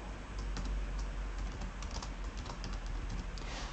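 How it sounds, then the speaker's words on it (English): Typing on a computer keyboard while filling in an online cosplay competition form, a quick run of light key clicks over low room hum, close and steady. "I'm just gonna type in here."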